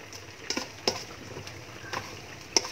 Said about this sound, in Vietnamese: Mình chiên thêm một lần nữa nha cả nhà.